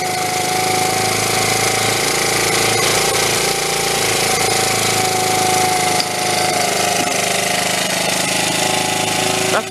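A restored Honda Z50 motorcycle engine runs steadily throughout, close and loud, with a continuous rattly mechanical chatter at idle and no break in the running.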